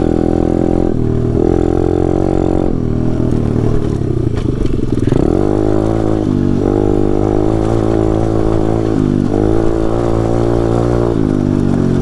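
A Taotao DB17 125cc pit bike engine runs steadily and loudly up close while riding, its pitch rising and falling with gear changes and throttle, with a clattering drone throughout.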